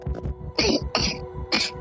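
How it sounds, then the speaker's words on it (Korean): Three harsh, raspy coughs in quick succession from a person with body aches, close by, with a faint breathy murmur before them. "몸살에 기침이 떨어질 날이 없었답니다."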